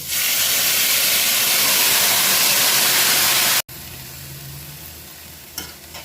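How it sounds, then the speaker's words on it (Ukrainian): Potato broth hits a pan of frying cabbage and spices with a loud, roaring hiss of sizzle and steam. It drops abruptly to a quieter, steady simmering crackle with faint stirring. "Через пів хвилини наливаю відвар від картоплі."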